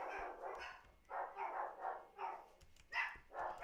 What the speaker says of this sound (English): don't mind my dogs